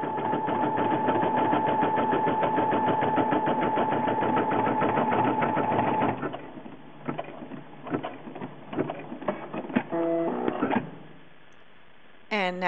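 A Brother Innov-is NV990D embroidery machine stitches sky blue thread in a fast, even mechanical clatter with a steady hum for about six seconds, then falls into quieter, irregular clicks and short whirring bursts before stopping near the end.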